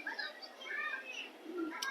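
A pigeon coos softly in a loft, with a few low, gentle warbling notes under quiet background ambience.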